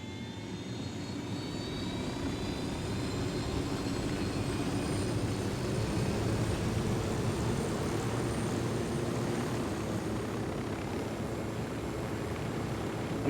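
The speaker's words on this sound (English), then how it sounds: "Let's get back to the helicopter" Steady, droning rotor and engine roar from a helicopter in the video game Ghost Recon Wildlands, continuous and unchanging throughout, with a faint high whine riding on top and no talking.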